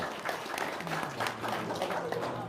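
A crowd claps steadily for a couple of seconds, a dense, even patter of applause at moderate volume.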